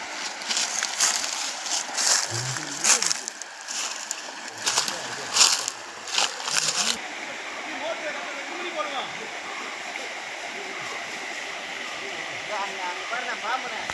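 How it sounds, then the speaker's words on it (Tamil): Water pours down a tall falls from high above, a steady broadband rush that runs the whole length. Voices come and go over it in the first half, and the roar continues alone afterward. "சார் இந்த மாதிரி ஃபால்ஸில் மேலேருந்து வந்துட்டுருக்கு."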